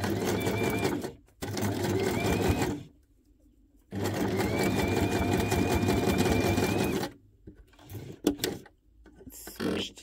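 A sewing machine zigzag stitching tiny paper scraps runs in two steady bursts of fast mechanical whirring, separated by a pause, then a few quieter clicks and handling noises follow.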